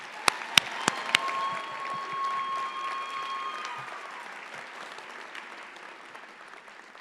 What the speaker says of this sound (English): How about one more round of applause for her?